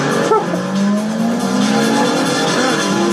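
A race car skidding in a PS1 racing video game, a loud sustained tire squeal with a rising engine drone running through the whole stretch, close and unbroken.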